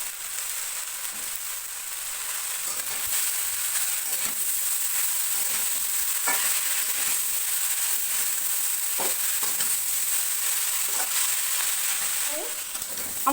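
Spice paste with salt and turmeric frying in oil in a pan, a loud continuous hiss with occasional stirring scrapes and pops running for over ten seconds.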